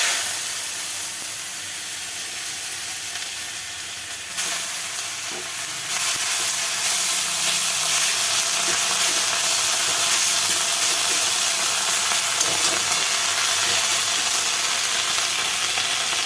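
Neem leaves sizzling in a hot cooking pan: a bright, continuous hissing sizzle that grows fuller after the first few seconds and stays steady and close, with no one speaking.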